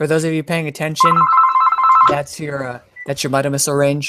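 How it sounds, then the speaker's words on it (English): A phone rings during an open-mic chat among Battle Pirates players, a steady electronic trill running for about a second beneath ongoing conversation, with people talking over it throughout. "And that was your phone."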